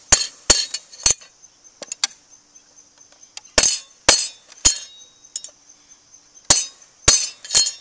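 A hammer strikes a steel plate from a filing cabinet being made into a wood stove, giving sharp metallic taps in irregular groups of two and three, with a faint ringing between blows and no talking.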